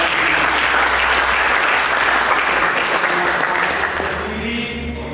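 A church congregation bursts into loud, dense applause at the close of a worship service, a continuous roar of clapping that holds steady and then begins to taper in the final second.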